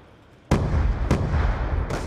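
Gunfire in Call of Duty Black Ops 2 hardcore multiplayer, three loud sharp shots spaced about half a second apart, each trailing into dense rumbling noise.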